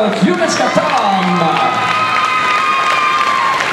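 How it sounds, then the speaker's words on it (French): An audience at an equestrian prize ceremony at an indoor show-jumping event in Paris applauds and cheers steadily, with a crowd murmur and an announcer's voice over it. "applaudissements"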